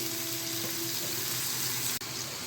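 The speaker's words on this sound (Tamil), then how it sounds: "இப்போ எல்லா வாழைக்காயும் போட்டாச்சு. இது நல்லா வேகட்டும்." Raw banana slices fry in a pan with an even, continuous sizzle, close and steady, broken by a brief dip near the end, no voices.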